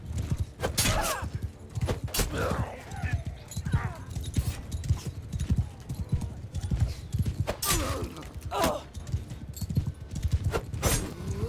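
Hooves clip-clop rhythmically on hard ground in the video game Mount & Blade II: Bannerlord, with a horse neighing now and then and occasional thuds in the mix.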